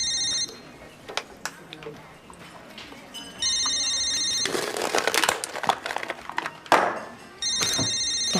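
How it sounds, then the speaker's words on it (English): A telephone rings in bursts of electronic trilling, starting, pausing and ringing again, while clattering, bumps and background voices fill the gaps, indoors. "You can answer the phone."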